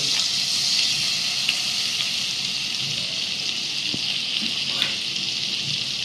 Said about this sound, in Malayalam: ഇനി അടുത്തതായിട്ട് നമ്മൾ ഇതേ പാനിൽ വന്നിട്ട് ഇപ്പോൾ ബട്ടർ ഇടുകയാണ്